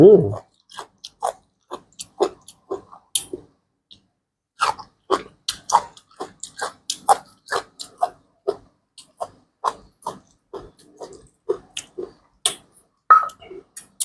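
Close, crunchy chewing of a Thai pounded bean salad, a steady run of short bites and chomps that pauses briefly around a third of the way through before resuming. A faint murmured vocal sound comes at the start.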